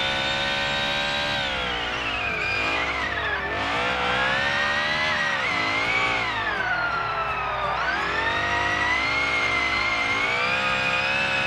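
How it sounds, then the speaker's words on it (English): Supercharged car in a racing video game roars continuously at high revs, with a whining supercharger and engine pitch rising and falling through gear changes and corners, loud and alone without talk. "the sound of this car is bonkers"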